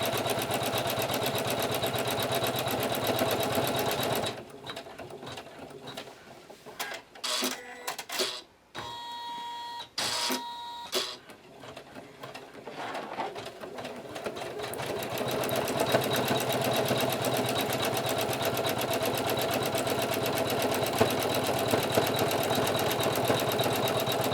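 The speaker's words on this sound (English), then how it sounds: "I'll probably go back just with the sewing machine and the straight stitch" A sewing machine runs a straight stitch through vestment fabric with a rapid, steady mechanical chatter, pausing and restarting in the middle before running continuously again, close by.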